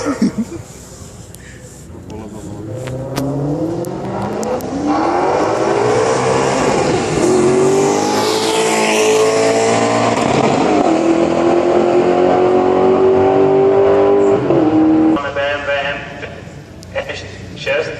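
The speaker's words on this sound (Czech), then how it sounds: "má to 440 koní, atmosférický motor, nádherný autíčko, nádherný zvuk" A Maserati's 440-horsepower naturally aspirated engine revs up hard, its pitch climbing and holding in a loud, rising roar, then dropping away; a voice talks over the start and end.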